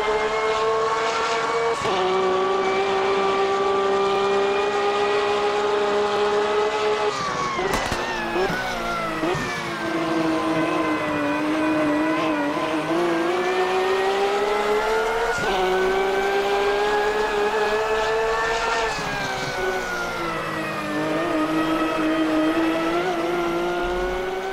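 A Porsche GT3 race car in Automobilista 2, heard from outside, holds a loud, steady engine note that rises and falls through gear changes with brief shifts, and no voices over it.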